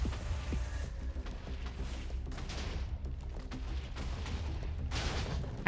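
Massive Apocalypse spell explosions tear through a video game world, a continuous loud rumbling barrage with repeated booming blasts rolling one after another without pause.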